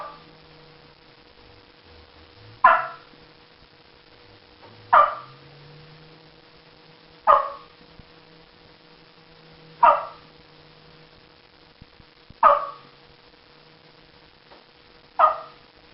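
Single sharp clucks from a turkey call imitating a hen's popping cluck, spaced about every two to three seconds, six in all, fairly close and clear over a low steady hum.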